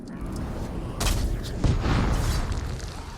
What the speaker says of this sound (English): And pay for waking me up with the explosions!